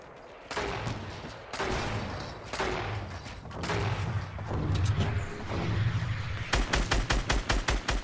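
Gunfire in Fortnite Battle Royale, with heavy broadband bursts through most of the stretch and then a rapid run of evenly spaced shots near the end, loud and close.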